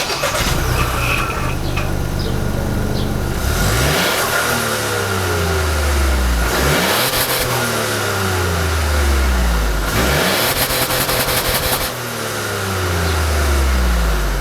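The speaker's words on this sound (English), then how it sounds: "now we'll have a listen to the exhaust" A Ford Bronco Sport engine revs hard through the exhaust several times, each rise followed by a falling burble back to a throaty idle, loud and close with no talking.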